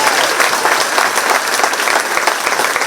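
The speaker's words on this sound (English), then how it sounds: "So can we give them a round of applause and thank you." A crowd at the Shelby County Fair queen contest claps steadily and loudly, dense continuous applause filling the whole stretch without a break.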